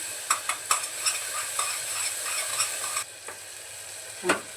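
Onion and tomato sauté with a spoonful of salt in a pan, a bright sizzle with repeated spoon scrapes and taps that settles quieter toward the end, ending with one louder clink, close and unaccompanied by speech.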